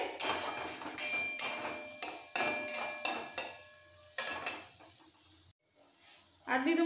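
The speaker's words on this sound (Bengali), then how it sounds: "একটু ভাজা ভাজা করে নিতে হবে।" Ground spice paste for a dosa stuffing frying in hot oil, a steady close sizzle broken by repeated rhythmic scrapes and clanks of a spoon stirring against the pan, fading briefly before a last burst of stirring.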